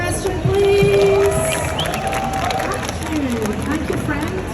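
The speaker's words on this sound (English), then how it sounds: "Round of applause for this question, please." A convention audience at the Helluva Boss panel at LA Comic Con breaks into applause and cheering, a dense crowd wash lasting several seconds with voices and a prominent speaker talking over it.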